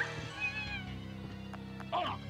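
A witch-transformed cat enemy in Castlevania: Symphony of the Night gives a short high meow near the end, over the game's steady background music with a few sharp effects.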